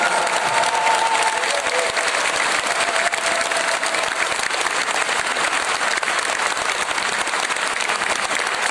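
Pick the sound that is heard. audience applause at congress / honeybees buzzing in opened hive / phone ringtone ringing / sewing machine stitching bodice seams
audience applause at congress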